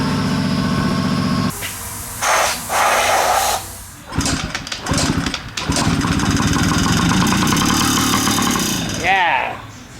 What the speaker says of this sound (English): Now I'm gonna spray a little brake cleaner into the cylinder and just kick it once